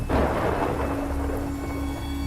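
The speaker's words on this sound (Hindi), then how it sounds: "बारिश ने हमें अपने आगोश में ले लिया" Heavy rain and rumbling thunder for a Hindi horror story, a steady loud downpour with a deep low rumble rolling throughout, no voices.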